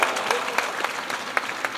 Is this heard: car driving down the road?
no